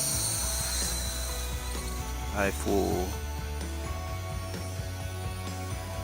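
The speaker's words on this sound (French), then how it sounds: "il faut bien faire attention avec ce drone parce qu'il perd très vite de l'altitude" A DBPower UDI U818A toy drone hovers with a steady whirring, ratcheting buzz of small motors and rotors throughout, while someone speaks briefly in French partway through.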